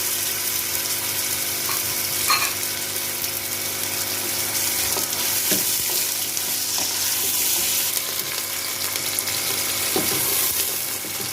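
Steady sizzling and crackling of garlic and onion frying in hot oil in a pot, with occasional soft clinks and stirring scrapes.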